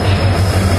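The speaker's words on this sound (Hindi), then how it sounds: "फिलहाल we are eight new Delhi railway station" Train at New Delhi railway station, heard as a steady low rumbling drone that runs unbroken through the short moment with no voices.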